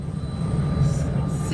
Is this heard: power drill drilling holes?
no